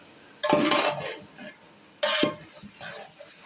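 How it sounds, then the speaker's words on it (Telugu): Fried paneer tipped into a pan and stirred while making restaurant-style chilli paneer, two short bursts of clattering and sizzling scrapes separated by quieter pan noise. "ఇప్పుడు ఇందులో వేపి పెట్టుకున్న పన్నీర్ వేస్తున్నారు అనమాట"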